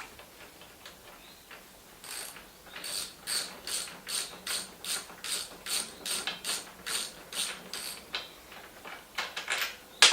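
An Allen key works the captive nuts on a Norman Hyde silencer of a Triumph T100, giving a quiet, steady run of rapid ratcheting clicks in regular bursts, close by.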